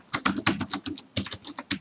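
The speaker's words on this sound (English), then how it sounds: "you see here I'm typing red" Fast, close typing on a computer keyboard while working in Excel, with a steady run of crisp clacking keystrokes and no other sound.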